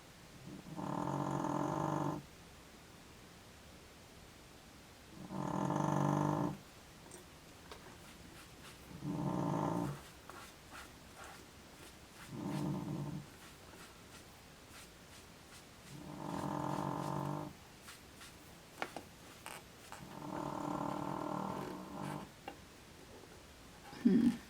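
A dog snores loudly and close by, six long rasping breaths in a slow, even rhythm with quiet gaps between them, and no talking.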